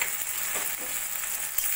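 Spice masala of tomato, ginger-garlic paste, salt, turmeric, cumin and chili powder frying in a pan for chana masala, a steady close hiss of sizzling oil with faint stirring scrapes.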